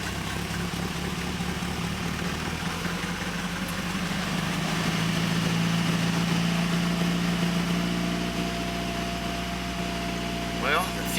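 A Triumph TR4 engine idles cold, a steady low mechanical hum running throughout with a fan-like whir, while voices talk over it.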